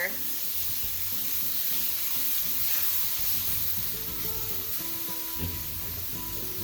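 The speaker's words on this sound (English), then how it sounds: "we're gonna let that spinach cook" Spinach cooks in a pan with a steady, continuous sizzle and soft hiss, joined by faint scraping and kitchen clatter, with low talk murmuring underneath at moments.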